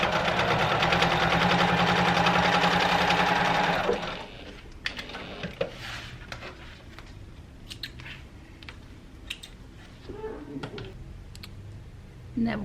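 A sewing machine stitches a four-layer bag strap in a loud, steady, fast mechanical whir for about four seconds, then stops, leaving quiet handling clicks and brief talk.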